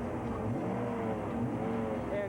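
Used Ford cars at a dealership lot, engines running with a steady low rumble throughout, close and continuous, with no clear revving peaks.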